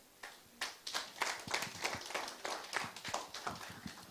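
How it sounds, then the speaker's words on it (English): A conference audience at a technology forum applauds after a speech, a quiet patter of clapping from a modest crowd, steady and somewhat rhythmic for a few seconds. "Please, another round of applause for Madam."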